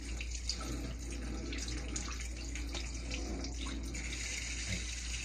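Water runs steadily from a faucet nearby, a constant splashing rush with a low hum underneath.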